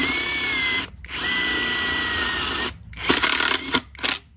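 Close and loud, a Hukan X1 Pro cordless impact driver whines steadily in two runs, then breaks into choppy, rapid hammering bursts as it meets resistance, stopping and starting several times.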